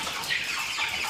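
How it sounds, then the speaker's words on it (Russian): Broiler chicks, about 120 of them housed in brooders, cheep and cluck in a soft, continuous chorus for a moment, close by with no one talking. "сейчас в брудурах стоят, сидят сколько? 120 где-то птенцов, да?"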